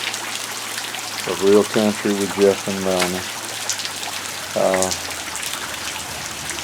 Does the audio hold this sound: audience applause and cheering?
no